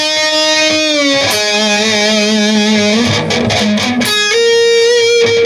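Electric guitar solo played with heavy distortion, sustained bending notes with wide vibrato and sliding pitch shifts, loud and continuous over a few seconds with no talking.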